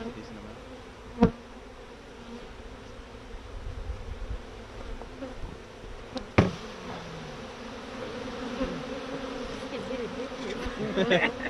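Honey bees buzz steadily around a gentle open hive during an inspection, a close, continuous drone with a few sharp knocks from handling and soft voices occasionally underneath.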